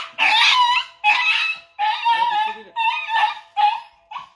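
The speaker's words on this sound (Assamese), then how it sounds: "এয়া দেখিছে কুকুৰখিনি যথেষ্ট উগ্ৰ হৈ আছে" Agitated rescued dogs that had been kept tied up whimper and whine in about six loud, drawn-out bursts close to the listener, with short gaps between them.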